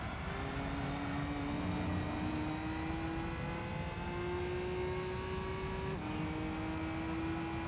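A Gran Turismo 3 race car engine, with a Subaru wagon in the race, whines as its pitch climbs smoothly. A gear shift drops the tone briefly before it rises again. The sound is quiet but continuous over a dense engine rumble.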